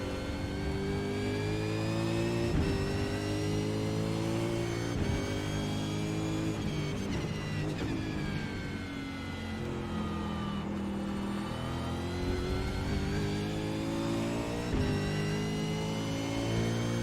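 Supercars race cars at Road America in the iRacing sim: a steady, loud engine drone with rising and falling pitch as the car accelerates and shifts gears, continuous throughout with no talk.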